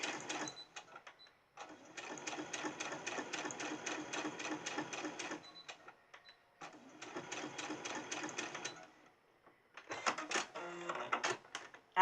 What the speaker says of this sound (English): I need to get me a new sewing machine here pretty quick.